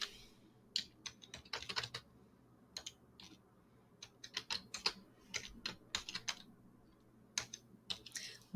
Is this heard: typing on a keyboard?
yes